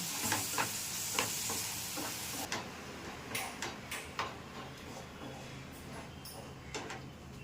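Tomato paste and masala frying in oil in a pan, with a steady close sizzle broken by irregular spatula taps and scrapes as it is stirred.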